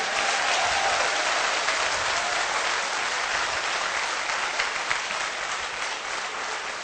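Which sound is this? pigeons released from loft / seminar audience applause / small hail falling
seminar audience applause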